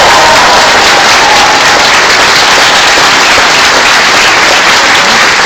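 A crowd gives a loud, dense round of applause at a mayoral campaign speech, continuous clapping that holds steady throughout at close range.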